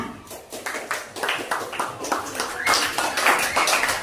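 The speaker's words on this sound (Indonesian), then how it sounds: "Berikan tepuk tangan yang meriah." Small group in an Indonesian classroom or teacher-training session claps in a loose rhythm, with individual close-miked claps standing out and some faint voices underneath.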